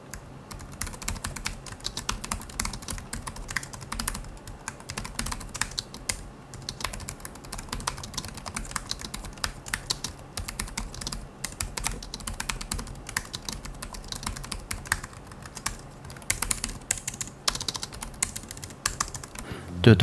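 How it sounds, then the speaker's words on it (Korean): Fingers type steadily on a light-feeling, budget-line computer keyboard for about twenty seconds, producing a dense, continuous patter of close key clicks with a few louder taps at the end. "요거 한번 타이핑 간단하게 한번 해볼까요?"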